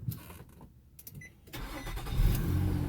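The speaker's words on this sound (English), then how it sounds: "I would turn the car on" A 2010 Nissan Altima engine cranking without catching, a steady mid-pitched churning that grows louder and denser after about a second and a half of quieter mechanical noise, heard up close with no talking.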